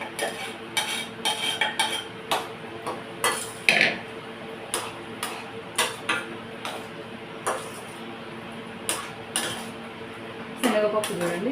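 Cooked chana dal tipped into a cooking pot of softened tomato for veg dalcha, giving scattered clinks and scrapes of utensil against metal pot, with brief bursts of clattering over quiet kitchen background.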